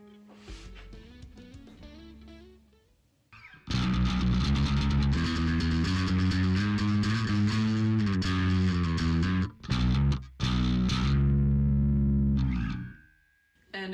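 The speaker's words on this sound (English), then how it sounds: "the distortion is starting to peek through quite a bit" An electric bass runs through a Darkglass Microtubes X Ultra distortion pedal with the high-pass distortion level set high, starting with clean plucked notes, then loud, sustained, gritty distorted riffs with brief pauses, ending abruptly.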